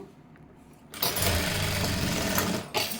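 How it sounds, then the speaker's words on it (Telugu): A sewing machine runs a line of stitching around a blouse neckline, starting after a quiet second with a steady, close mechanical whir and rapid needle rhythm that pauses briefly near the end and restarts. "నీకు చుట్టూరు ఒక కుట్టు అయితే వేసేసేయండి"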